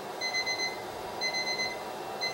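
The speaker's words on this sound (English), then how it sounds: "you can hear the beep" A semi-automated Mindray BA-88A chemistry analyzer beeps in short bright pulse groups during a BUN urea test, repeating about once a second over a quiet background hum.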